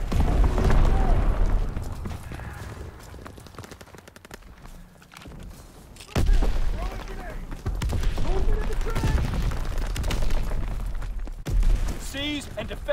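Mortar rounds land during a Call of Duty WW2 hardpoint match. Heavy booming impacts alternate with gunfire, and loud bursts open the clip and return at about six seconds. Game voices call out over the din.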